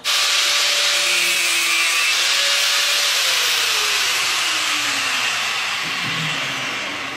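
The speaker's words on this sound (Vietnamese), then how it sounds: "Tiếp tục cưa thân vợt này." A saw cuts through the carbon shaft of a Guang Yu V01 badminton racket in one long, continuous, close rasping hiss that fades slightly at the end, with no talk.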